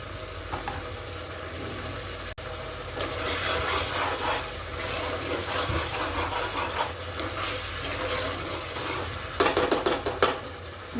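Cooked meat being stirred into pasta frying in a pan: continuous sizzling under repeated scraping and stirring strokes, which grow louder and quicker toward the end.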